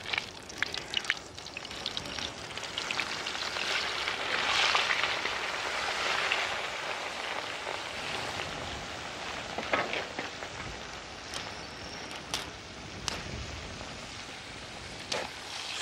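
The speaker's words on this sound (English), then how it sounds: "And we pop them into the oil" Floured eels for Majorcan fritas sizzle in hot oil, a steady close crackle with scattered sharp pops and spits that carries on without any talk.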